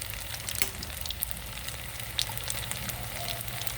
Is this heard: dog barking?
no